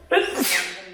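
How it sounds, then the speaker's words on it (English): A single sharp, loud sneeze bursts out close by in a kitchen, where butter and Keto Chow are being mixed in a Vitamix blender, and it trails off quickly. "Sneeze. Bless you."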